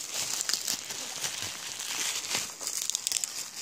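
Plastic packaging crinkling and rustling close up as a package of WWE action figures is opened, a continuous busy crackle with small sharp snaps.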